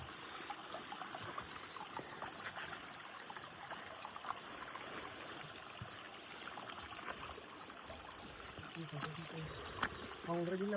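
A forest stream flowing during heavy rain on a jungle crossing at Nuwaragala, Sri Lanka; a constant broad rush of water, fairly close, with occasional splashes and faint voices toward the end.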